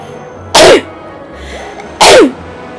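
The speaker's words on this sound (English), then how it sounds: "I'm gonna sneeze." Two loud, sharp sneezes about a second and a half apart, close to the listener over a faint background hum from a Zelda: Skyward Sword play session.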